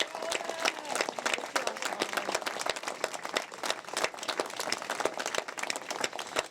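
Steady applause from an audience gathered at an overdose awareness vigil, many hands clapping densely and evenly throughout at moderate loudness, with a few faint voices mixed in.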